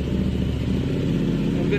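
A motorcycle with a Vmax racing exhaust idles with a steady low, throbbing rumble, close and fairly loud throughout.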